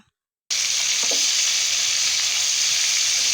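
Hilsa fish frying slowly over a low flame: after a brief silence, an even, unbroken sizzle begins and holds steady and close, with a faint clink and no speech.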